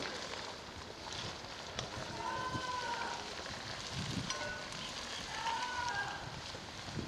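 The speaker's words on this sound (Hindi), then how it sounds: "इसे 6 से 7 मिनट इस अदरक और लहसुन में फ्राई करेंगे।" About a kilo of beef sizzles in a karahi with garlic and ginger for Shinwari beef karahi, a soft, steady crackling hiss throughout, fairly quiet and without talking.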